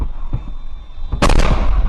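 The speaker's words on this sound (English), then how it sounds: "immediately an MLRS rocket hits that car" An MLRS rocket strikes a car in a war zone: a sudden loud, close blast with a crackling burst that rings on over steady background rumble.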